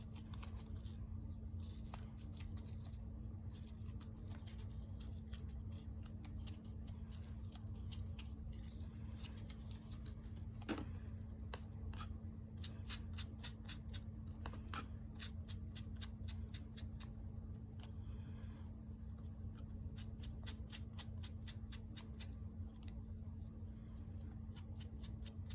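Cotton paper is torn by hand with glue-sticky fingers while making a Christmas junk-journal collage board: close, crackly ripping and rustling bursts repeat throughout over a steady low hum.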